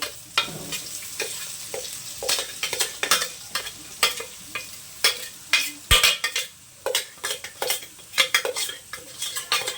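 Ground masala paste fried and stirred in a pan, with a quick run of close metallic spatula scrapes and clinks over a soft sizzle, growing busier toward the end, no voices.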